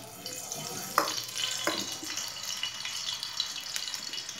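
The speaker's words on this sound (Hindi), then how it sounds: "पहले हम कढ़ाई में तकरीबन 5 टेबलस्पून के जितना ऑयल ऐड करेंगे।" About five tablespoons of oil go into a kadai (wok) for a mixed Chinese vegetable dish, making a soft, steady hiss and light sizzle with a few small clinks near the start.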